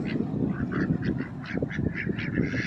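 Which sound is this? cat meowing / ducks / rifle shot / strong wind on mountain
ducks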